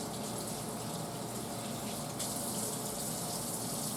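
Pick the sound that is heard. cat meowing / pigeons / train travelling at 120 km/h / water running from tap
water running from tap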